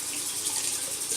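Steady faucet water pours and splashes into a sink while someone rinses their face after exfoliating the face and neck, an even, close, continuous rush with no talking.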